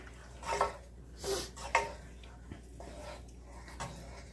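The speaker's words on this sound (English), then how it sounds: "then we're going to just stir this all up." A spoon stirs the sauce for Marry Me Chicken in a pan. A few scattered clinks and scrapes against the metal come at irregular intervals, then a quieter stretch of soft stirring.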